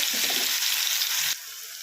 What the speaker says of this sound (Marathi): आता आपण हिरवं वाटण टाकायचं।